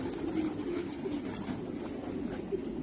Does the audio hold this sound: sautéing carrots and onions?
no